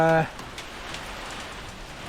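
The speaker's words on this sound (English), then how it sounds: "unless this rain calms down" Steady rain hisses down outdoors during a service of a BMW E46 318i, its even patter continuing after a brief tonal sound at the start.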